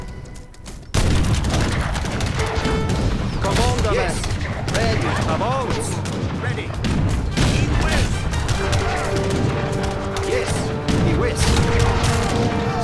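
Rapid, continuous booming cannon fire and explosions pound away loudly in an Age of Empires 3 battle, with a voice speaking briefly over the barrage.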